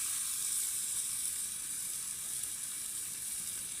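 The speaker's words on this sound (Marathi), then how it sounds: "आणि आता फ्राय व्हायची वाट बघूयात" Tilapia fish frying in a pan make a steady, even sizzle with a bright hiss that holds at a constant close level throughout, with no talking.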